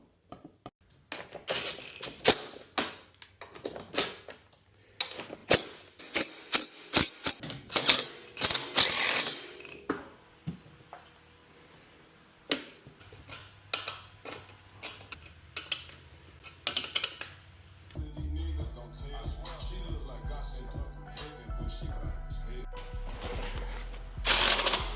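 A ratchet tightens bolts on ATV bumper brackets for a 2023 Kawasaki Brute Force 750, giving close, rapid clicking ratchet strokes in uneven bursts, followed by a low mechanical rumble near the end.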